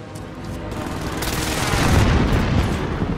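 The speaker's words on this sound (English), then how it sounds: "Allied precision airstrike incoming." Precision airstrike explosions in a Call of Duty match, loud heavy booms and rumbling blasts that swell and roll together, close and continuous, with no talking.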